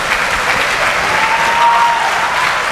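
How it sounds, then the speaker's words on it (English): An audience claps at an eSummit inauguration, a dense, loud, steady burst of applause from a crowded hall with no voices over it. "A big round of applause, ladies and gentlemen."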